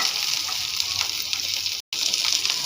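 Onions fry in hot oil with mustard seeds, cumin and curry leaves for a mushroom curry, a steady close hissing sizzle broken by a brief dropout to silence.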